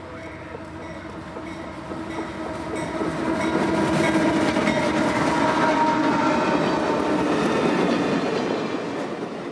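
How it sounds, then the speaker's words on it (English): The CSX W001 track geometry inspection train, made of three passenger cars, rolls past at a signal by a diamond crossing with a steady rumble and rattling wheels that swell to a peak at mid-pass, plus horn tones. "W001 is a track geometry inspection train, made up of 3 passenger cars"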